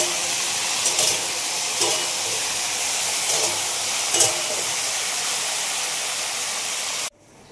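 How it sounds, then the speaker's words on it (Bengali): Okra frying in plenty of oil for an okra and potato curry, giving a steady close sizzle and hiss with a few faint clinks, running continuously until it cuts off abruptly near the end. "আর এখানে আমি ঢেঁড়সগুলো ভাজা বসিয়ে দিয়েছি"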